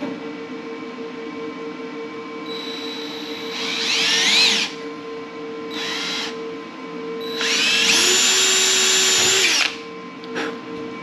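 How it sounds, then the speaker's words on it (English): A power drill whirs in short bursts drilling holes in a metal rack, three separate runs with rising pitch as it bites, the last one longest, over a steady background hum. "So I am going to drill these holes."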